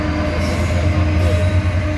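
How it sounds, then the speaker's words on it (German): Train rumbling steadily past at close range, a continuous heavy roar with metallic rail noise and wheel squeal, no voices over it; a freight train or locomotive running without wagons. "Ich weiß, das ist ein Güterzug oder sowas."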